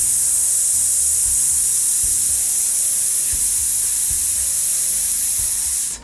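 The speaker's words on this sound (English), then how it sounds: "and then we're going to let it out on a s sound" A long, steady hiss of breath pushed out through the teeth on an s sound, held without a break for about six seconds at a constant close level before cutting off.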